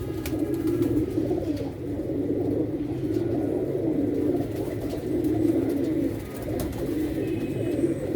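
A pigeon coos low and steadily in a continuous, rumbling murmur with no pauses. The sound is close and fairly loud.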